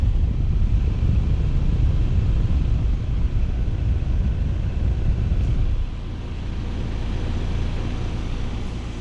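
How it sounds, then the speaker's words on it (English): A neighbor's 2006 Trane XL16i 4-ton outdoor heat pump runs with a steady, loud low whooshing drone that drops and settles into a slightly quieter hum about two-thirds through. "there's my neighbor's Trane XL16i heat pump. Just got starting up."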